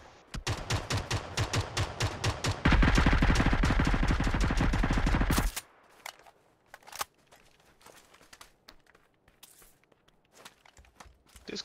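Rapid automatic gunfire in PUBG, a steady rhythm of sharp shots that turns into a loud, dense burst for a few seconds, then stops abruptly and leaves faint scattered noises and a few distant pops.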